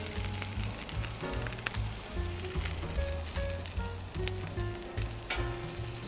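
Eggs for a Denver omelette sizzle steadily on a Camp Chef 600 flat top grill, a close, continuous crackling fry with no talk over it.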